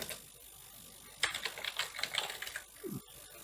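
A computer keyboard clatters in a quick burst of close, crisp key taps as a command is typed into a PowerShell window. Quiet room tone comes before the taps, and a short low sound follows near the end.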